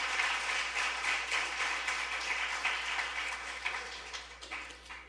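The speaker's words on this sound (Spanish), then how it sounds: "Ahora sí hay que aplaudir al Señor Juan" A church congregation applauds the Lord together, steady dense clapping filling the space for several seconds and thinning slightly toward the end, with no talking.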